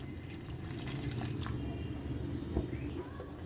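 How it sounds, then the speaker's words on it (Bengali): Hot water poured into a cooking pot of radish dish, a steady watery trickle and drip continuing for a few seconds at close range with no talking. "এখন এতে আমি আর একটু গরম জল দিয়ে দিচ্ছি।"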